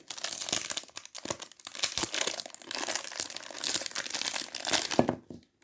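Packaging crinkles and tears close up as a small pencil sharpener from a Marionnaud advent calendar is unwrapped, bursts of crumpling paper or plastic in uneven handling rhythm, fading to quiet at the end.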